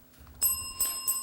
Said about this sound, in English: that's the final bell